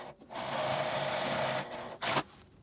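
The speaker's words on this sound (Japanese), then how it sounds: "真ん中ぐらいに縦にミシンで仕切りをつけます。" A sewing machine stitches a vertical divider down the middle of a pocket on a small zippered pouch made from a long fabric scrap. It gives a steady, close whirring run of over a second, then a brief second burst after a pause.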